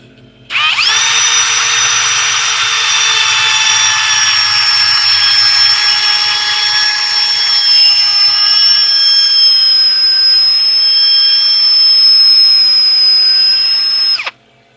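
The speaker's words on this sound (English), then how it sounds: "gonna sand this up" A power sander or lathe whines steadily against a cherry burl pen blank, a loud sustained high-pitched tone that starts abruptly, holds for about fourteen seconds with slight pitch wavering, then cuts off.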